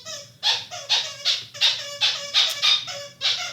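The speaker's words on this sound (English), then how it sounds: "I don't have the heart to take the toy away from the dog." A dog plays with a toy, giving a run of about eight sharp, high squeaky or whiny bursts in a steady rhythm, close and alone with no talk.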